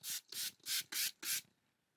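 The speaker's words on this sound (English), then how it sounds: "So I'm going to spray." A hand spray bottle mists the back of art paper in five quick, crisp pumps, each a short hissing burst at close range, followed by quiet.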